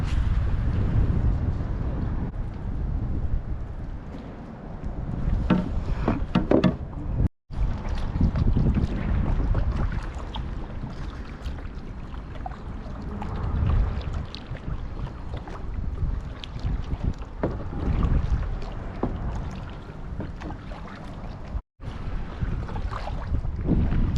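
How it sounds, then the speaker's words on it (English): A kayak is paddled against the current near a dock at Newport Beach, with soft water strokes largely buried under heavy, gusting wind noise on the microphone. "I'm paddling up this current"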